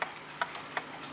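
A vintage hand-painted kitchen wall clock movement on a test stand ticks faintly and evenly, a few soft clicks spaced about a third of a second apart against quiet room noise.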